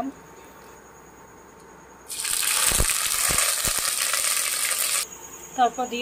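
Whole cumin seeds hit hot mustard oil in a pan with a sudden loud, bright sizzle that crackles steadily for about three seconds, then dies back to quiet kitchen sounds and a few clinks.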